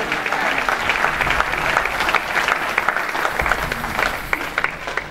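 A church congregation applauding during a sermon, with sustained dense clapping from many hands filling the room at steady loudness.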